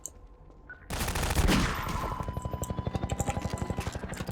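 Gunfire from the Magnum revolver in the Half-Life 2 video game: a sudden loud burst followed by a rapid, evenly spaced train of shots that continues steadily and close up to the end.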